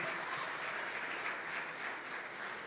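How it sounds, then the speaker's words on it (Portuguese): Church congregation applauding a pastor couple, a steady, dense wash of clapping from many hands that holds evenly throughout with no speech over it. "pastor Marcelo, pastor Ana, vamos dar um aplauso para eles"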